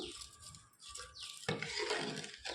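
Sugar is stirred into a milk powder mixture for junnu, a sweet milk pudding, with a spoon clinking and scraping against the vessel in close, repeated strokes and no voices.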